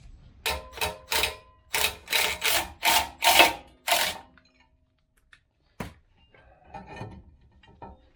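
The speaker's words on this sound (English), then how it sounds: "Just drive a screw into these holes, these little provisions that they have. It should pop right out." Screw being driven into the threaded holes of a rusted rear brake rotor on a 2014-2019 Toyota Corolla, heard as a run of close, rasping bursts of grinding and squeaking, then a sharp knock and some quieter scraping.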